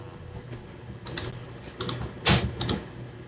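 Computer keyboard typing a search into a Minecraft game menu, short bursts of key clicks in quick clusters, close and fairly quiet, with no talking.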